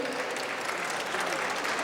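Audience applause welcoming a guest poet from Islamabad at a Lahore poetry gathering, a dense steady patter of clapping filling the room for about two seconds.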